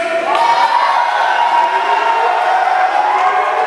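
An audience of teenage boys at a Far Rockaway teen summit cheers and shouts together, a loud continuous crowd roar with whoops rising above it, steady throughout with no break.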